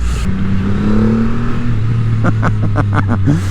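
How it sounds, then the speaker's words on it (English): A 2024 Triumph Rocket 3 R Storm motorcycle accelerates hard in second gear, its engine note rising in pitch as it pulls, heard close and loud with a rumbling exhaust. "That first bit of acceleration in second gear"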